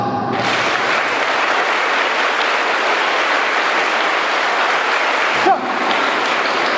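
Students and staff at an Amrita university session break into loud, dense clapping that starts abruptly and holds steady, close and full, before cutting off briefly near the end and resuming.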